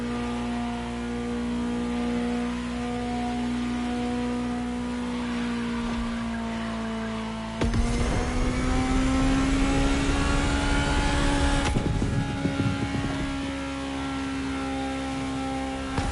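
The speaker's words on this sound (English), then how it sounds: "Just listen to the car you're driving." A Ferrari supercar engine in the driving game The Crew Motorfest drones at a steady, loud pitch, then swells sharply into a harder, rising rev for several seconds before easing back to the earlier steady hum.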